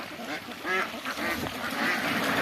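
Ducks at a large duck farm quack nearby, giving several distinct nasal calls that overlap and trail off against a busy open-air background.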